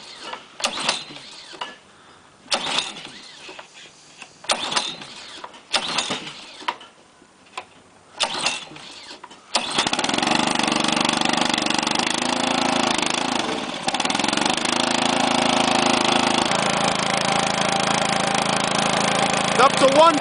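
A Honda 5hp engine on a Craftsman air compressor, after a gas line repair, gets several short recoil pulls, then fires up and settles into a loud steady running drone.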